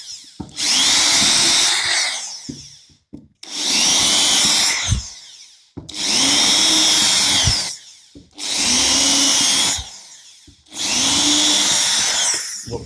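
A power drill bores holes into wooden floorboards to fix squeaking floors, five loud whining bursts of about two seconds each separated by short pauses, close to the microphone.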